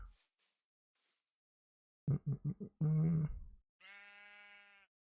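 Several short sheep bleats from Minecraft, a quick run of four or five clipped calls followed by a longer sustained bleat, then a higher-pitched tonal tone, with quiet gaps before them.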